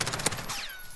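Gunfire in the video game Modern Warfare Search and Destroy: a cluster of sharp, rapid shots in the first half-second, then ringing tails that fade out. No voices.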